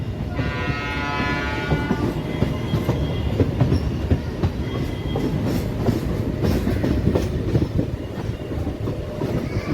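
A Howrah to Belur Math local train rolls along with a loud, steady rumble and rhythmic clatter of wheels over the rails, and a horn sounds briefly near the start.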